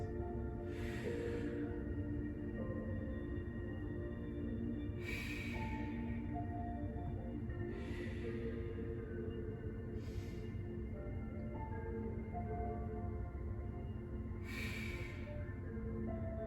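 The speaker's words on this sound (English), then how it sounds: "2 more big breaths." Deep breaths in a yoga class: about five slow, airy exhales spaced several seconds apart, close and fairly soft, over a steady low background hum with no talking.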